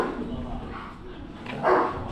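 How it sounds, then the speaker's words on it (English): A large dog barks somewhere off in the distance on Qi'ao Island near Zhuhai, China, one muffled bark standing out over low outdoor ambience and murmuring voices. "There's a massive dog somewhere over there."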